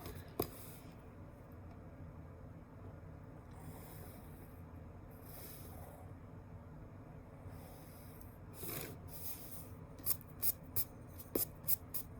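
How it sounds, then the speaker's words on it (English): A pencil sketches a 3 by 1 inch rectangle on paper as a design drawing for a bag, giving a faint, steady scratch with a few short, sharper strokes toward the end and no talking. "I'm just going to draw that 3 by 1 inch rectangle as if I was looking down into"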